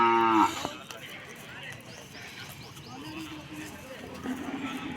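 A cow moos once, loud and close, at the very start of a native cattle market in Pazhaiyakottai, followed by the murmur of the market and people talking, with a faint animal call further off.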